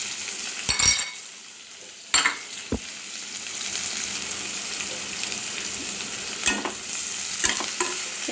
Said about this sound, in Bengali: এটাকে ভালো করে নেড়ে চেড়ে নেব। পেঁয়াজগুলো ভালো করে যাতে নরম হয়ে যায়।